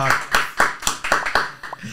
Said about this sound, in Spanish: Le damos un fuerte aplauso a Marco Polo